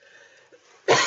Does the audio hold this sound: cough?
yes